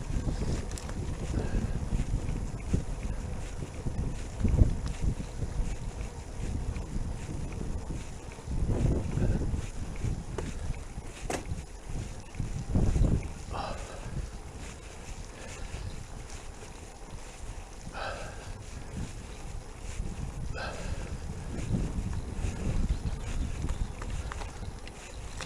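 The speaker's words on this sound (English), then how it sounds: "If this wind had died down, it'd be really nice, or nicer." Wind gusts over an e-bike rider in the Lincolnshire Wolds, a rough low rumble with louder swells that comes and goes over the whole ride.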